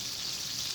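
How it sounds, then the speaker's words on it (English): Bacon crackles and sizzles in hot oil in a pan, a steady close hiss of frying with dense popping throughout. "when you put new pieces of bacon in, it can sizzle a lot"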